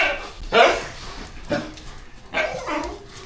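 A dog barks and whimpers in a few short, close bursts with pauses between them, and no talk is heard.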